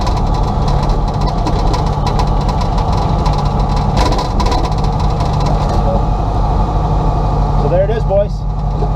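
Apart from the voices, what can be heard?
turbocharged 1967 VW Beetle engine on first drive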